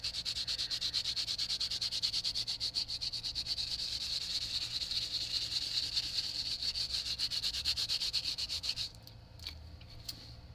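A kitchen scrubber rubbing rapidly back and forth in a fast steady rhythm, close and faint, stopping near the end into quieter scattered scratches.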